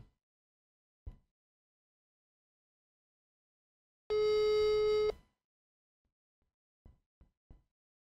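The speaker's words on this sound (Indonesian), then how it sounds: "Ini kita lagi nelpon para penipu customer service BSI nih" Phone busy tone heard while dialing a scammer's number posing as BSI bank customer service; a single steady electronic tone lasts about a second, set between sparse clicks and taps in an otherwise quiet line.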